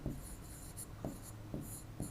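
Chalk or marker writing on a classroom board during a lesson, faint scratchy strokes in a quick rhythm of short taps and scrapes over a quiet room.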